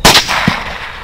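A single loud rifle shot fired at a hog, sharp and close, followed by a short rolling echo that fades within a second.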